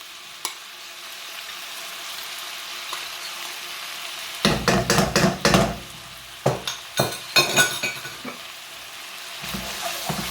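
Kimchi and chili paste fry in a pan with a steady low sizzle, then bursts of scraping and stirring rhythmically cut in, loud and close, with no talking.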